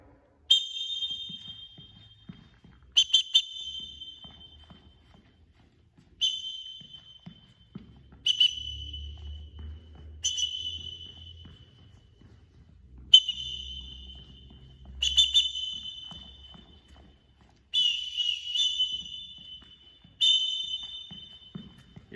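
Short sharp whistle blasts for a movement direction challenge, single and double toots at irregular intervals with quiet gaps between, alongside faint low thumps, probably footsteps or movement.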